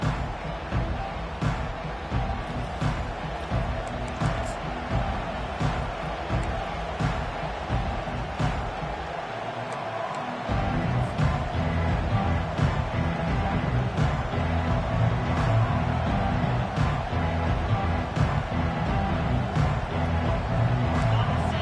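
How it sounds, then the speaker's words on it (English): A stadium crowd cheers at a college football game at Georgia, a dense, steady roar of many voices that swells louder partway through, with announcers commenting over it. "They challenge this crowd to bring the energy, and I'd say they're doing that."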